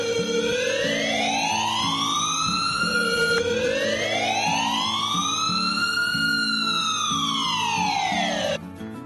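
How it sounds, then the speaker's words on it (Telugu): Ambulance siren wailing in long rising and falling sweeps, loud and close, steady through the clip until it cuts off near the end, with a low rumbling engine tone underneath; no talk. "ఇలా అంబులెన్స్ బయలుదేరుతుంది."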